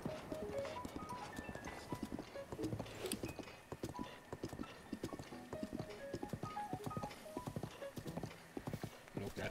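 Hooves clip-clop in a quick galloping rhythm from a horse in Breath of the Wild, with game music tones and effects layered over the steady hoofbeats.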